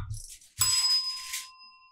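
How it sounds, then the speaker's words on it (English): A small bell is struck twice, a short ding followed by a louder bright ring whose clear tone hangs and fades slowly, close and alone in a quiet room. "Oh, we actually have a Gnostic bell now."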